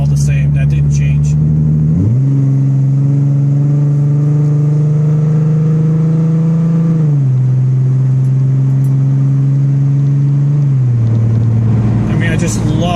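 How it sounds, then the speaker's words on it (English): In-cabin drone of a car exhaust fitted with Pypes bombs and Magnaflow magnapacks. A steady deep burble rises in pitch under light acceleration, holds, then settles and climbs again, loud and continuous. "It sounds so good in cabin."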